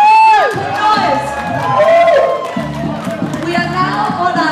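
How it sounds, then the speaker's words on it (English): Crowd at a gala dinner cheers, whoops and claps for a live band, a loud lively hubbub of many voices with music underneath throughout. "Give them a clap, please."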